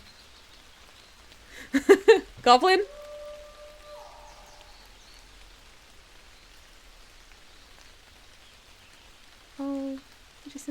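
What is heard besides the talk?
rain falling, from a video game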